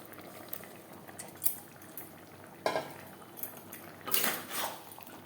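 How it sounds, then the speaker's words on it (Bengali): A spoon scrapes and clinks against a pan while fish roe is stirred into a simmering gravy, in a few irregular bursts over a quiet background hiss. "মাছের ডিম বেশ ভালো করে মিক্সড করে দেবো।"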